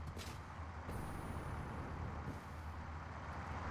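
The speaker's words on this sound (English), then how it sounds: "I'm about to get hit by a truck." Steady low rumble of a heavy truck engine in a factory-building video game, with a sharp hiss of air brakes near the start, continuous and fairly loud, no talking.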